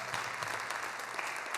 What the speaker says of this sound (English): Please an applause for the District 9 Stars